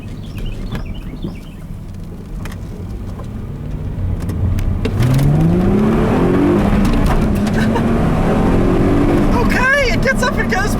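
A 2005 Chrysler Crossfire V6 engine revs up and accelerates on a back road, its pitch climbing through the gears, loud and close, with road and wind noise throughout.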